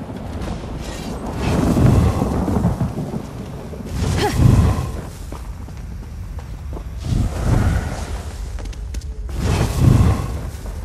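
Thunderstorm in The Elder Scrolls Online, with continuous heavy rain and several deep rolling thunder rumbles swelling and fading at intervals.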